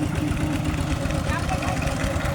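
A farm tractor engine revs on a village road with a steady, rough mid-range rumble under continuous talk.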